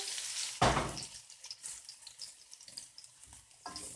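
Wax gourd pieces dropped into hot oil give a sudden loud burst of sizzling, then quieter intermittent crackle and stirring clatter, with another burst near the end.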